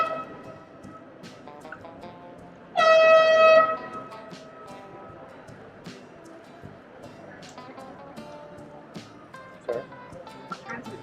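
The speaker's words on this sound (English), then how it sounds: "help me find that person with the air horn" A single loud air horn blast sounds for about a second aboard the cruise ship Jewel of the Seas, sharp and tonal, then fades into quiet ambient background noise.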